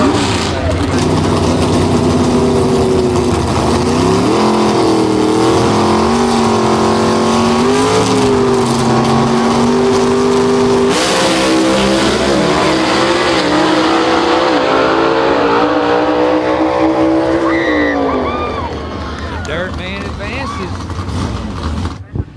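Gasser drag race cars launch down the dragway, loud roaring engines rising in pitch as they accelerate away and then fading. An announcer talks excitedly over the noise throughout.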